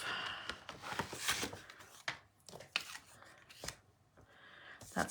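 Paper scraps are snipped and handled close up in a quiet craft room, a run of quick crisp cuts and rustles followed by a few separate sharp snips with short pauses between.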